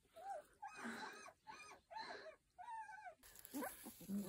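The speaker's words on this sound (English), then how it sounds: "Collection of puppies." Several puppies whimper and yip in short, rising whiny cries, close up, in a quick broken series with brief pauses between them.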